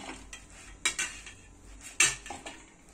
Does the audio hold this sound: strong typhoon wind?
no